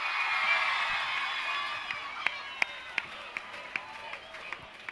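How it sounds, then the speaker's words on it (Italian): Festival audience applause in a large hall at a song contest, a broad crowd wash with sharper individual claps and whoops standing out toward the end, steady and fairly loud. "L'applauso voglio sentire."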